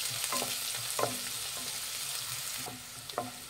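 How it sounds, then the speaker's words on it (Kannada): Finely chopped onion fries in hot oil with a continuous bright hiss. Several spoon scrapes and taps are heard close by, and the sizzle eases slightly toward the end. "ಸಣ್ಣದಾಗಿ ಹಚ್ಚಿರೋಂಥ 1 ಈರುಳ್ಳಿ ಹಾಕ್ತಾ ಇದ್ದೀನಿ. ಈರುಳ್ಳಿನ ಸ್ವಲ್ಪ ಫ್ರೈ ಮಾಡಿ."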